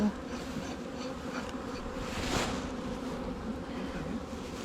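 A steady, dense buzzing of many honeybees close by around their hive, continuous and unbroken, with no voices.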